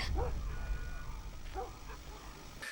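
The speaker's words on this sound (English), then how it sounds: "there's the dog barking outside, and then the dog gets hurt or killed" A dog barks outside in The Last of Us, giving a few short yipping barks at a moderate distance over a low game ambience, with no talk.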